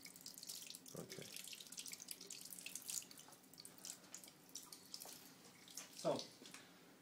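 Tap water runs steadily into a sink while a copper circuit board is rinsed in a makers' workshop, a soft continuous splashing with a couple of louder gushes, fairly quiet and with no talk over it.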